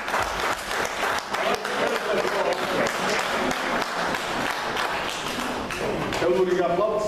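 An audience bursts into sustained, dense clapping at a Georgian poetry gathering, a steady, loud wash of applause running through the whole stretch with a slight swell near the end, with some voices mixed in.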